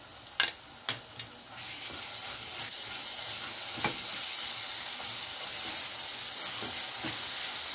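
Ginger, garlic and cumin paste hits a hot pan for egg curry with a few sharp spatters, then settles into a steady, close sizzle with occasional stirring scrapes, no voices.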